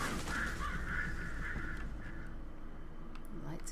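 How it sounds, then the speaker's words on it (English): Birds caw and honk in a spooky abandoned building in a video game, with harsh repeated calls over a steady low rumble of game ambience. "Birds!"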